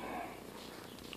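A cat purrs softly and steadily close by, a low continuous rumble at quiet volume.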